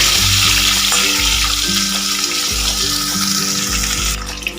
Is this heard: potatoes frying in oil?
yes